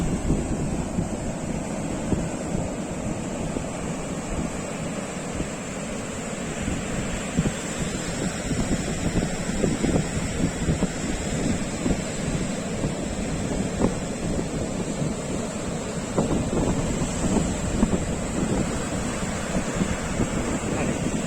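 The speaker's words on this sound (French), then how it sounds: "Les vagues, c'est trop joli." Steady ocean surf rolls and washes continuously on a deserted beach on Réunion island, with broad roaring noise and some wind buffeting on the microphone, and no one speaking.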